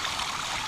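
A stream flowing downhill at an Arkansas campsite gives a steady, broadband rush of running water, close and continuous with no voices.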